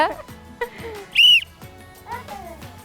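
A single short, shrill whistle blast sounds clearly amid people talking in the background.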